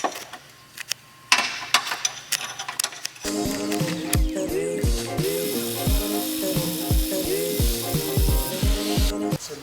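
Ratchet clicking in rapid bursts while tightening a nut on a more complex second mount, near and steady, with a few clanks and knocks before the cranking begins.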